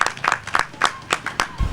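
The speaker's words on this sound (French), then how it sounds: "je vous demande d'applaudir très fort" Audience clapping at an outdoor ceremony for a libation festival, a handful of sharp, close hand claps in an uneven rhythm, fairly loud, ending with a low thump.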